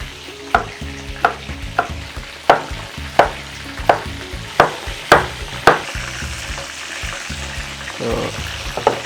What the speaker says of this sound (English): So now I'm adding my vegetable to the jollof.